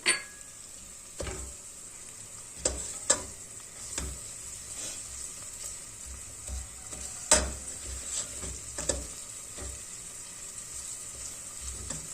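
Tomato paste fries in olive oil with onion and garlic for a zucchini dish, a soft continuous sizzle close by, punctuated by scattered spoon clinks and scrapes against the pot.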